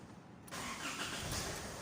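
An engine turns over and catches while being tested during repair, then settles into a steady running hum heard from nearby, with no voices.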